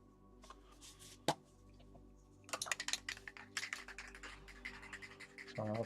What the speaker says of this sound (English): So I apologise for the rattling. Can't help it, need to shake the stuff.